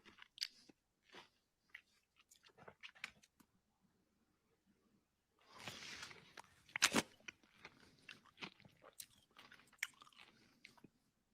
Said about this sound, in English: So first sound is chewing.